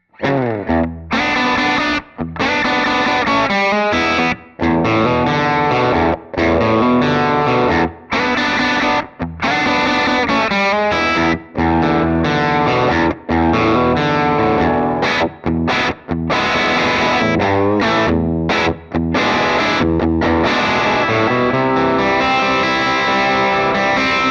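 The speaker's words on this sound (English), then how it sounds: "Just a straight up AC15 has that swampy thing going on." An electric guitar played through the AC15 amp model of a NUX MG300 multi-effects unit, with distorted, chiming chords and riffs broken by short pauses, with a touch of room reverb.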